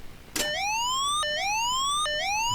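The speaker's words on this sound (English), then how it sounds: "Let's get rid of the alarm." Cockpit warning alarm in a UH-1 Huey helicopter in the DCS flight simulator, a loud repeating rising electronic tone that sweeps upward three times after a brief click, with no talk.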